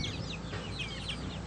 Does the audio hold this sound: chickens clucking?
yes